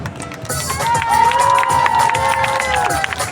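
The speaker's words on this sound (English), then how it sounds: "Clap for this one." At a street juggling act with box juggling on Orchard Road, a crowd bursts into loud clapping and cheering, a dense wash of applause and shouts that swells and holds for a few seconds.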